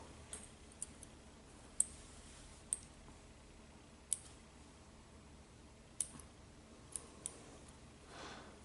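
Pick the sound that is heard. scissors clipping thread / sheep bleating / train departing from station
scissors clipping thread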